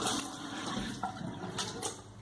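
Tap water runs steadily while hair is wetted and squeezed at a sink, a continuous close splashing hiss with soft shifts as hands work through the hair.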